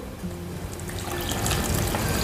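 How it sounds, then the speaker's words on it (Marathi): A cup of water poured into a mixer jar holding dry-ground sabudana khichdi and peanut amti ingredients; a short, close trickle and splash that grows fuller over about two seconds, with no talk. "1 कप पाणी टाकते"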